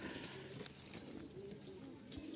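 A running female pigeon of a Bengali hand-flying breed coos softly and repeatedly over a faint steady background hum, no talking.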